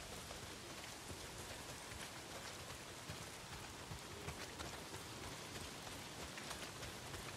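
Steady downpour of heavy rain in the video game Days Gone, a dense, constant hiss of drops hitting surfaces that fills the whole stretch with no talk over it.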